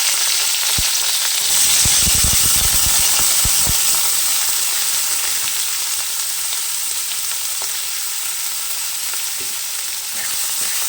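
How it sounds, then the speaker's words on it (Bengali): Chillies and onions frying in hot oil for a Bengali egg posto dish, a steady loud sizzle with a cluster of spoon or ladle clatters early on, no voices. "তেলের মধ্যে আমি লঙ্কা দিয়ে দিয়েছি, এরপর আমি পেঁয়াজগুলো এক এক করে দিয়ে দেবো"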